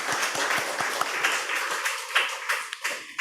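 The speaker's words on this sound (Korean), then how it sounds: "박수 한번 쳐요." A church congregation at a Sunday service clapping in a loose, uneven patter of individual hand claps, moderately close, thinning toward the end.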